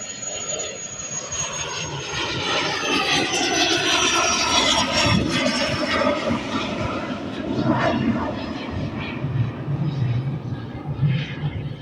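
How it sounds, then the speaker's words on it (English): A Cirrus Vision Jet takes off nearby, its engine a loud, sustained roar with a high whine that shifts in pitch as it passes, while a person talks underneath. "Here comes the Cirrus Vision jet taking off."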